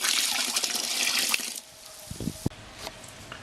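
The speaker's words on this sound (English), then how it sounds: "we add 10 liters of water" Ten liters of water poured from above onto a hand-blended blueberry purée for wine, a steady broadband rushing splash for about a second and a half that cuts off, followed by a few light drips and a small knock.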